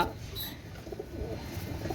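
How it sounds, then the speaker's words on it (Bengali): Pigeons coo softly at close range in a continuous low murmur, set among breeding stock of pigeons kept for sale. "এই দুটো পায়রা"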